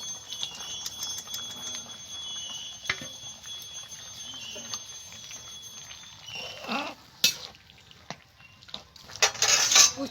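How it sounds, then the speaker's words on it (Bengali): Fried bitter gourd added to boiled potatoes in a pan, giving soft clinks, scrapes and rustling stirs of utensil against pan, fairly quiet with a few louder clatters near the end. "এবার আমি ভেজে রাখা উচ্ছেটা দিয়ে দেবো।"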